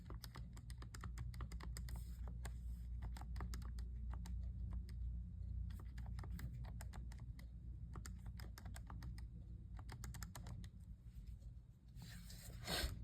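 Calculator keys tapped to enter statistics values, a steady run of small clicks in quick bursts with short pauses, close and fairly quiet, ending with a brief louder rustle.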